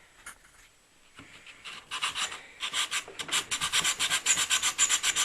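A wooden block is rubbed back and forth on 60 grit sandpaper, part of a Vax upright vacuum cleaner rebuild. It starts as quiet scratching and builds into loud, steady rasping strokes in a quick rhythm, with no talk.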